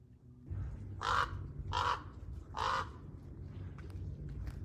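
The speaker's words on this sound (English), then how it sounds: "not positive the difference between a raven and a crow, but I think that's a raven" A raven or crow on a street gives three loud, harsh caws at a steady, evenly spaced rhythm, close by over a low background hum.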